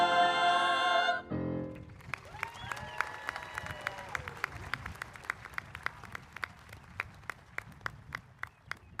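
Scattered claps from a commencement audience follow a brief, loud burst of music, thinning into sparse, fairly regular individual claps with faint crowd murmur underneath.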